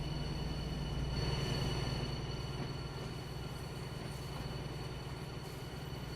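A long old train, a BR 218 locomotive on the Dresden local route in Train Sim World 4, gives a steady low rumble of running gear and engine at a moderate level throughout, with no talk.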